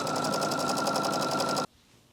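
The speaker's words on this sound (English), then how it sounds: "stitch with a 1/4 inch seam and then press toward the center" A sewing machine runs a quarter-inch seam through quilt fabric with a steady, rapid, close-up stitching rattle, then stops abruptly near the end, leaving faint room quiet.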